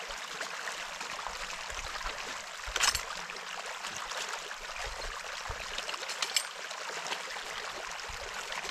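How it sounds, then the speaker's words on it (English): Water drains from a hose off an irrigation wheel-line main as the line empties, making a soft, steady rushing trickle that stays faint and unbroken throughout, with one or two small splashes. "There's water coming out of this hose though because the main line's draining."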